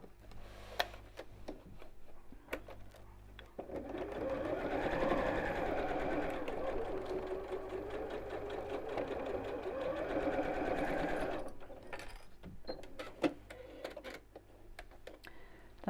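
A sewing machine runs in one continuous burst, stitching fabric pieces together for a bowling bag, with quieter ticks and handling clicks before and after the stitching.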